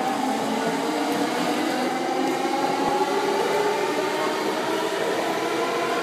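A double-decker train passes in Tokyo, its steady broadband roar and rumble holding close and loud for the whole stretch with no voices.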